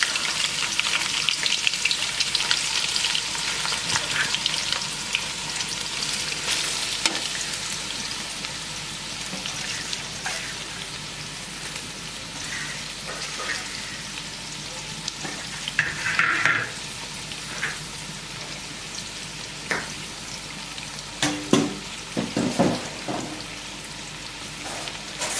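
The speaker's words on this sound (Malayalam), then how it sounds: "നമുക്കിതിലേക്ക് നീളത്തിൽ അരിഞ്ഞ സവാള ഇട്ട് കൊടുക്കാം." Long-sliced onions frying in a pan for a traditional egg thoran give a steady, close sizzle throughout, with occasional stirring scrapes and brief louder crackles near the end.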